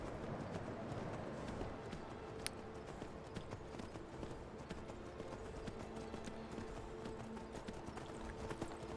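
Steady clip-clop of horse hooves trotting along in the video game Skyrim, a rapid even rhythm over a soft background hiss with no talking.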